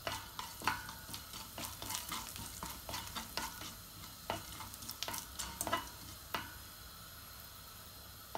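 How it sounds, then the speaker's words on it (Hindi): Coriander, cumin and black pepper fry in hot oil in a home kitchen, with a steady low sizzle under irregular sharp clicks and scrapes of a spoon stirring in the pan, close and fairly quiet, with no talking. "मैंने ऑयल ले लिया, गरम हो गया, मैं इसके अंदर डाल दूँगी ये हमारे मसाले"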